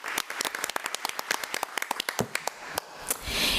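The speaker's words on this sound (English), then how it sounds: "Let's give Ms. Davis a round of applause." Applause at a board meeting, a scattered crowd clapping in a room for an award recipient, sharp irregular claps that thin out toward the end with a brief murmur, moderately close.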